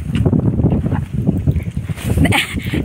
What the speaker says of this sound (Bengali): এত হাওয়া।